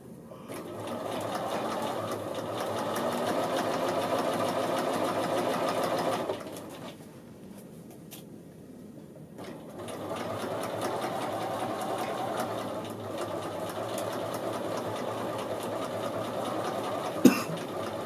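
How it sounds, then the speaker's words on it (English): Sewing machine running steadily while edge stitching the bottom of a men's shirt collar band, a close continuous whirring hum that stops for a few seconds and then resumes, with a small click near the end. "now you're edge stitching along the bottom side of this collar"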